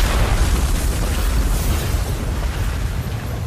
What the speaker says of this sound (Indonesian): Dan terjadilah ledakan yang begitu dahsyat.